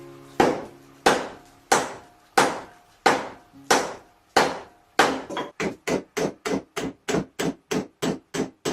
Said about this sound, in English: I'm going to use my big wooden mallet to secure the handle in really tight.